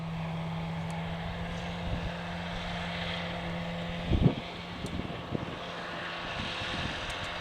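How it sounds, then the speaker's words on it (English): A tractor cutting grass in the Yorkshire Dales countryside by Nidderdale, heard as a faint, steady engine drone at a distance with a low hum, plus a few soft nearby thumps. "We've got a tractor here, look, cutting grass."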